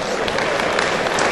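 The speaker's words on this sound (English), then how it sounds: "give a good round of applause there" Audience applause at the Royal Highland Winter Fair steer and heifer championships livestock show, a brief, steady wash of many hands clapping at close range.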